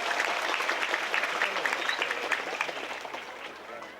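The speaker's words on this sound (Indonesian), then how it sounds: "tepuk tangan dulu dong" An audience at a Fatayat Muslimat gathering in Gelang Rakit claps steadily in dense, crackling applause that fades slightly toward the end, with no voices over it.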